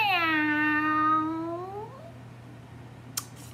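A cat gives one long, drawn-out meow that rises and then slowly falls, loud and close, followed by quiet and a brief click near the end.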